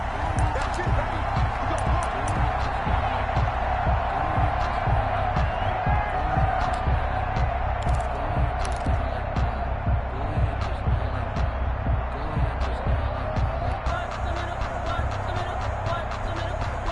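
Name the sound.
stadium crowd cheering before Giants vs Cowboys NFL game, video game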